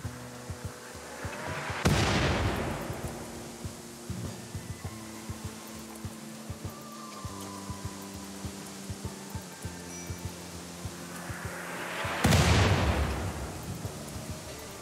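Mortar shells and explosions in the game RimWorld: two loud broadband blasts about ten seconds apart, with a steady low hum and scattered small pops between them.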